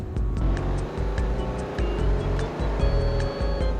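A twin-turbo car running 18 PSI of boost in a video game roars steadily, with turbo whistles and repeated short blow-off chirps over the continuous engine drone.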